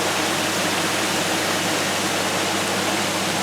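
Water rushes steadily through a tube from a small pump on a mini wash plant, producing a constant loud broadband hiss like a small waterfall, with no breaks or voices.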